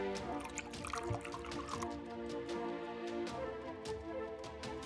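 Vinegar poured while making pickled jalapenos, a steady trickling and dripping stream with small splashes, close by and fairly quiet, with no talking over it.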